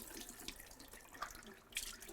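Water runs steadily from a tap in an off-grid homestead kitchen as drinking water is filtered, a continuous hiss with a few brief splashes, fairly close and without talk.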